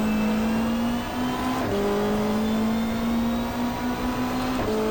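A 1995 Australian Super Touring race car in the GTR2 racing game at the Gold Coast Indy circuit holds a loud, steady engine drone, with pitch shifts as the car goes through gear changes.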